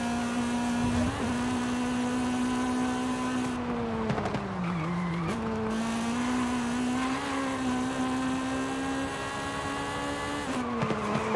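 A car's engine in Forza Horizon 5 holds high, steady revs through the VTEC range, shifting from third to fourth with brief dips and pitch steps, loud and continuous with no talk.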